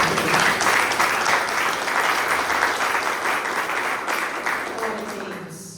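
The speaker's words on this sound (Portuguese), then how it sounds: "Você pode aplaudir o Senhor por você." Church audience applauding at a Portuguese-language service, dense continuous clapping from many hands, loud and near, tapering slightly toward the end.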